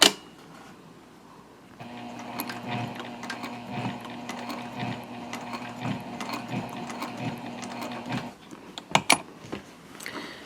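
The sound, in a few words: sewing machine stitching a tote bag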